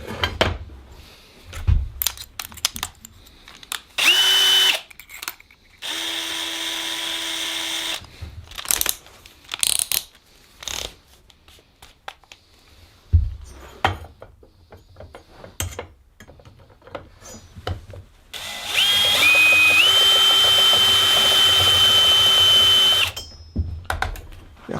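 Bursts of a power drill with a 5 mm bit whining through aluminium, separated by clatter, handling noise and quieter stretches, close by with no talking.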